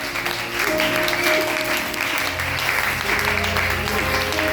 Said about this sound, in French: On va acclamer Jésus encore une fois.